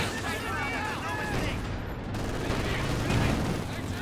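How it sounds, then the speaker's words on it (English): A Katyusha rocket barrage fires in the Company of Heroes 2 strategy game. Rising and falling whistles sweep over a dense, continuous roar of explosions and gunfire, loud and unbroken throughout. "Got the Katyusha going again."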